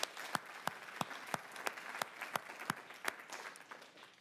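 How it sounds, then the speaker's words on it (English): A church congregation claps in a faint, distant round of applause, individual sharp claps standing out in a loose rhythm over a soft background wash. "Hey, give him a round of applause."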